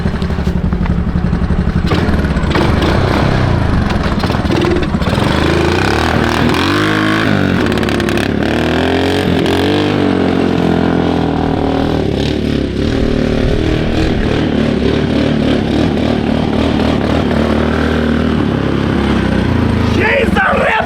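A 1995 Honda FourTrax 200 ATV engine runs loud and close with its tank refitted, revving repeatedly in rising and falling bursts over a rough idle, with mechanical clatter throughout.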